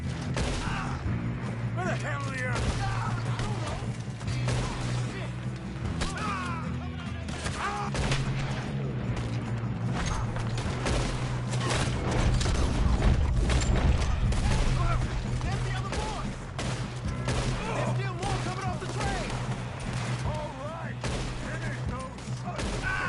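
A Red Dead Redemption 2 shootout: sustained gunfire from multiple guns, with frequent sharp shots and clustered volleys over a constant backdrop, while voices speak intermittently amid the fighting.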